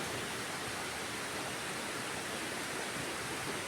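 Rain falls on garden plants around a house, a steady even hiss with no pauses, soft and continuous throughout.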